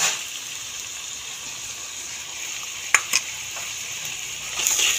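Spices and yogurt fry in a pan for a vegetarian Kashmiri aloo dum, giving a steady close sizzle with a couple of sharp stirring clatters and a brief gush of added liquid.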